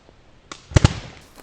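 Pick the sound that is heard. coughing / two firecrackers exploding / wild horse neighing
two firecrackers exploding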